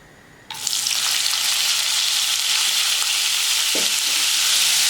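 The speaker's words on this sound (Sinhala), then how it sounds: "අපි දැන් කරවල ටික කලවම් කර කර බෙදගමු." Pieces of dried fish hit hot oil in a pan over a medium flame and burst into a loud, continuous sizzle that holds steady, with a brief clink of stirring partway through, close up and without talk.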